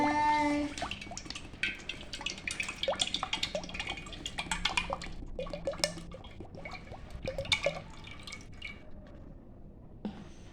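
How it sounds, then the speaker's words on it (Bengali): Coconut oil is poured into a container of hibiscus flowers and leaves to make a herbal hair oil, with a run of close, irregular drips, splashes and liquid patters that thin out toward the end. "আমি এখানে এক কেজির মতো নারিকেল তেল অ্যাড করতেছি"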